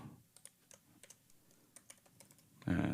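Quick, light keystrokes on a computer keyboard rename a parameter in synthesizer software, close and fairly quiet, scattered in short bursts before a louder synth tone cuts in at the end.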